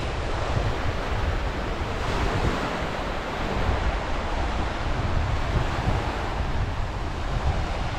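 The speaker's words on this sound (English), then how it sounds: "It's quite windy though" Steady, loud wind roaring across open ground by Marsh Lake, Yukon, for several seconds, with a broad rushing hiss and low rumble, constant and unbroken, no voices present.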